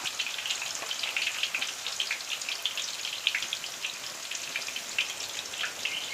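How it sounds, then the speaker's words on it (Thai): Banana slices fry in hot oil in a pan, a dense, continuous crackling sizzle with rapid popping bubbles, steady and fairly close, with no speech. "ก็ใส่กล้วยลงไปทอดอีกรอบหนึ่งได้เลยค่ะ"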